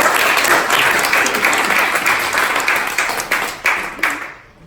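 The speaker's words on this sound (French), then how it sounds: "je vous demande d'applaudir Mathieu, Giovanni et Loïc" An audience claps for a three-person coding bootcamp team at a demo day in Lausanne, a dense, steady applause that carries through and thins out near the end.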